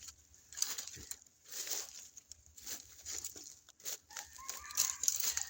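Wild junglefowl roosters calling from a forest at dawn, several clipped calls scattered across the stretch, mostly distant and fairly faint, among broadband birdsong and morning ambience with no talk.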